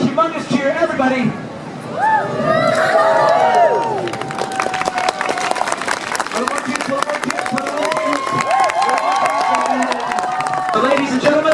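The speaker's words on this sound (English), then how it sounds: "big throw, big catch, humongous cheer, everybody" A large outdoor crowd at a chainsaw juggling street show in Trafalgar Square cheers and whoops loudly after a big throw and catch, the roar swelling and holding steady with shouts and whistles.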